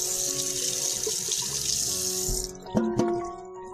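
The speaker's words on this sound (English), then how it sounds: "Wash my hands." Tap water runs steadily into a kitchen sink as hands are washed mid-cooking, a close, even splashing rush that cuts off at the end, followed by a few clinks.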